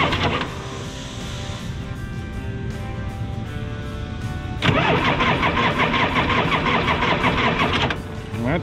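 An old-school Harley-Davidson Shovelhead engine on a factory sidecar motorcycle turns over and catches, then runs loud and close at a steady rumbling idle for several seconds before cutting down near the end.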